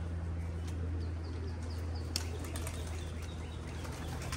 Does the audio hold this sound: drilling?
no